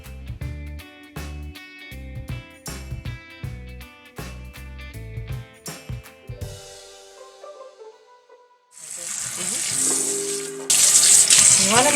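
Boneless skinless chicken breast being rinsed under running water at a kitchen sink, a steady hissing splash from the tap following a stretch of background music.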